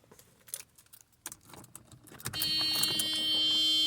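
Key jingling and sliding into the ignition of a Mercedes SL R129, with soft rattling clicks followed by a sustained electronic warning beep.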